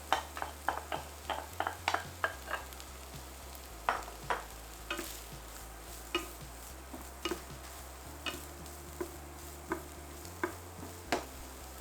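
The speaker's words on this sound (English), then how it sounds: "Add the corn and saute for 1 minute." Corn sautés in vegetable oil in a large pan for Vietnamese stir-fried street corn: a quiet, constant sizzle runs beneath repeated scraping and tapping strokes of a utensil against the pan in an uneven rhythm.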